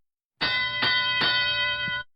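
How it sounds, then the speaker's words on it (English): An electronic bell at an FTC robotics match marks the start of the driver-controlled teleop period: one sustained, bright ringing tone of about 1.6 seconds, loud and close, with a few faint knocks during it. "That's a bell for our teleop period."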